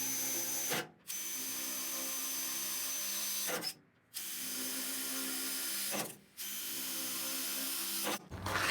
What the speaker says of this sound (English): Take and punch a couple holes in here.